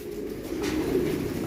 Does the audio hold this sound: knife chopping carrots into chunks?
no